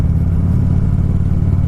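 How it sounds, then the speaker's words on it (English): A motorcycle engine fitted with Cobra exhaust pipes revving close by, a loud, deep, throaty rumble that holds steady without pause. "I cannot believe how much punch these Cobra pipes have given the bike."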